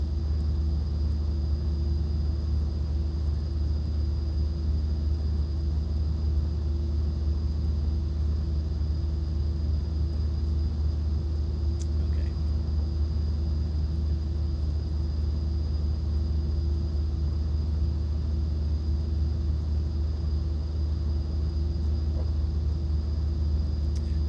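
Pilatus PC-12 turboprop idling while parked in X-Plane 11, a steady, loud low rumble with a constant high whine layered on top, unchanging throughout with no speech.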